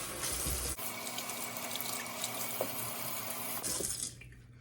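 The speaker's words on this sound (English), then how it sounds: "we got all of the cucumbers washed" Tap water runs steadily into a kitchen sink while cucumbers are washed for pickling, a continuous close hiss and splash that stops abruptly near the end.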